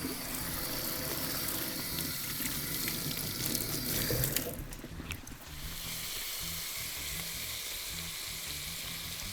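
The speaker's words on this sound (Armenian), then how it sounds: "Մի քանի րոպե թողում ենք լավ տապակվի, որպեսզի հավը եփվի" Chicken pieces frying in a pan, a steady loud sizzle with some running-water or washing noise layered in, briefly dipping midway before the frying hiss resumes.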